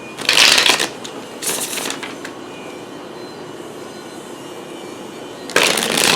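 Playing cards riffle-shuffled in quick bursts during a card reading, loud and close, with a quiet pause in between before another shuffle begins.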